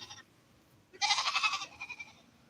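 Goats on a homestead bleat in a wavering, drawn-out call at moderate distance, following a brief earlier bleat, with quiet outdoor background between.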